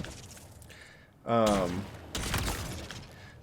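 Weapon fire in the Halo Infinite video game: a loud sharp burst of shots after a quiet stretch, followed by a second rattling volley and some mechanical game noise.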